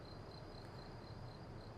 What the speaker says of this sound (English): I'll turn up the volume so you can hear the crickets in the background